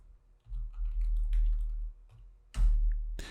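Someone types on a computer keyboard while entering a range name in an Excel spreadsheet, giving short close bursts of clicking keystrokes separated by pauses and ending in a sharper key press or two.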